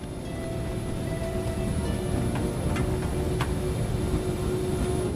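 A jet airliner climbing just after liftoff, gear and flaps retracting, heard from inside as a steady, loud, broadband engine roar with a constant drone and no speech.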